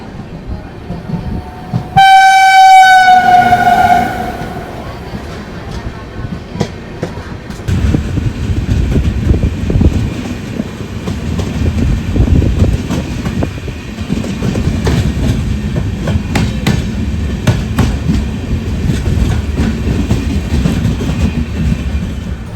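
An LHB-coach Guruvayur–Madurai express passenger train, a short 13-coach rake, sounds a loud horn and then rolls steadily along the rails at Karunagappally station, with continuous rumbling and clattering wheel noise.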